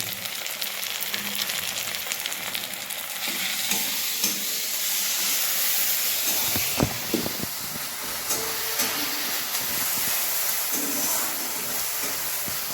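Ginger-garlic paste with onions sizzles steadily in an oil-filled pan, with a constant frying hiss broken by scraping stirs and occasional clinks of a spatula.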